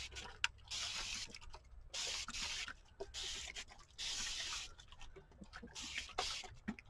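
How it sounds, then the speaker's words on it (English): Several short bursts of water mist from a spray bottle onto mixed media postcards, each lasting about a second, repeated in a loose rhythm with brief pauses between, close by. "what I'm going to do is spray these so they can react to the water"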